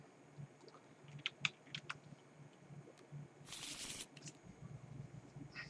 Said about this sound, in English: He's going to shuffle Nakia back